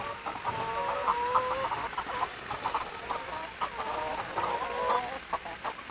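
Chickens clucking in a farm chicken coop, a busy run of close, overlapping clucks and short calls repeating over about six seconds with no talking.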